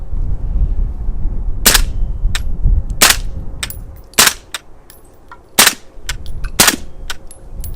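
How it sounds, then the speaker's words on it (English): Suppressed rifle fired with an OSS RAD 9 suppressor on an outdoor range: a series of sharp, muffled reports spaced a second or so apart, each followed by the clank of the bolt cycling and spring action noise. "I hear the spring inside of the stock. I hear the bolt cycling and clanking back and forth."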